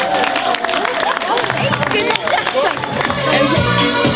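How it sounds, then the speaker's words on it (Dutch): Applause and crowd noise at a neighbourhood centre's tenth-anniversary celebration, a dense wash of clapping and chatter that stays steady and fairly loud throughout, with voices mixed in. "Dus voor hun een heel groot applaus."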